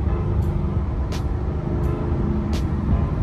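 A car engine rumbles through its exhaust pipes with the sunroof open, a steady low drone with a few brief airy hisses on top and no talking.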